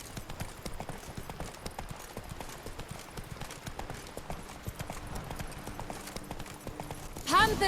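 Steady clip-clop of horse hooves during a night ride across open country in The Witcher 3: Blood and Wine, an even rhythmic trot heard close and continuous, with soft game ambience beneath and a brief louder burst at the very end.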